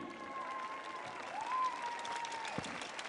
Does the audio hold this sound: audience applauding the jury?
yes